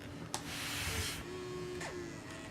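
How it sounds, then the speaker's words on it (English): A 2008 MacBook's optical drive whirs and grinds as the laptop starts up, giving a steady close mechanical rasp with a brief click near the start and a softer ongoing hum, with no talking. "that's obviously going to be the optical drive"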